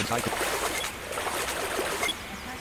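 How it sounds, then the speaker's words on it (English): A waterfall rushes as a steady, dense roar in an audio game, with the flow continuous and loud throughout the brief stretch. "We're going through a waterfall."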